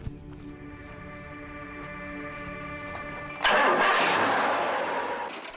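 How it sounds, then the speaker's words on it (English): A 400-horsepower airboat engine in the Florida Everglades cranks and catches partway through, bursting into a loud, close, broadband roar that holds steady over a lower tonal hum. "the preferred mode of transportation here in the Florida Everglades, airboat"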